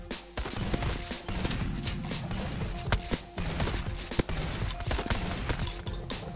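Dense, continuous gunfire from shooting in the VR game Out of Ammo, with shotguns in play, loud and close, with sharp individual shots punctuating a steady barrage for several seconds.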